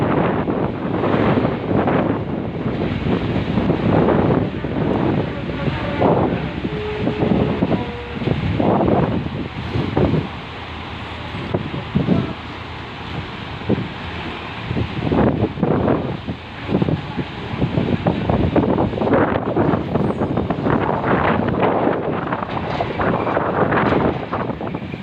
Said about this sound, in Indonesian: Ombaknya besar ya teman-teman, sampai airnya naik-naik ke